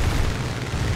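Plane crashing into the ground in the combat flight game War Thunder, a heavy low rumbling boom that fills the moment loudly, with no voices.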